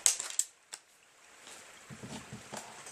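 A Gamo Whisper air rifle fires at a container lid, with sharp shots near the start and a couple of lighter clicks or impacts after, followed by faint rustling and handling noise.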